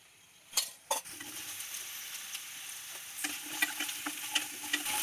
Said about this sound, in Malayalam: ഇത് ഇടയ്ക്ക് ഇങ്ങനെ ഇളക്കിയിട്ട് ഒന്ന് നമ്മൾക്ക് വാട്ടിയെടുക്കാം.